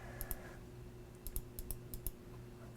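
Keys on a computer keyboard are pressed for a shortcut, a few faint, quick clicks in small clusters over a quiet electronic hum, with no voices.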